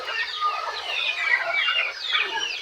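Plymouth and Rhode Island chickens on a farm, a steady chorus of overlapping clucks and chatter from several birds nearby, with no talk.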